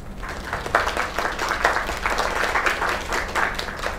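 Crowd applause in a PS5 indie video game, dense rhythmic clapping from an onscreen audience, steady and fairly loud throughout with pulsing bursts.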